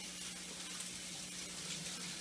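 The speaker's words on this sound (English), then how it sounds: "Let me wash my hands." Tap water runs steadily into a kitchen sink as hands are washed while cooking a Mexican beef soup, a soft continuous hiss close to the microphone with no talking.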